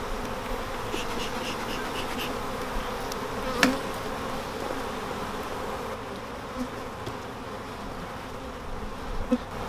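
Honeybees from a double nucleus colony being moved into its final hive, a dense continuous buzz close by with a few individual bees flying past the microphone, and no voices.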